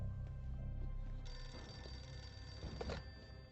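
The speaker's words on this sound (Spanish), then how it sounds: "El teléfono del castillo suena." A telephone rings inside a castle during wartime, a repeated bell-like tone sounding over low rumbling background noise, moderately loud, with no talk.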